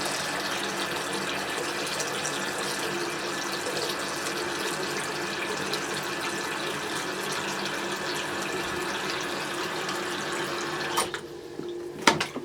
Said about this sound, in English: Use cold water to protect the curl pattern.